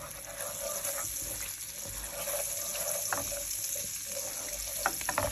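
Ají panca pepper paste fries in oil, a soft, steady sizzle and crackle with faint scattered pops, heard alone at low volume.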